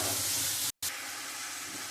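A paste of onion, garlic and ginger hits hot oil in a pan for a fish curry, giving a loud, steady hiss and sizzle up close. The sound cuts out briefly near the start, then continues.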